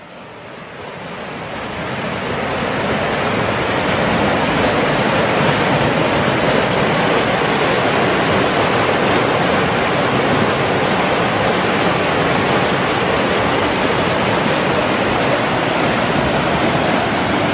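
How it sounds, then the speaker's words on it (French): Swollen stream in flood rushing loudly into the Seine, a steady, dense roar of churning water that swells in over the first two seconds and then holds constant throughout. "Regardez un peu comment que l'eau accourt"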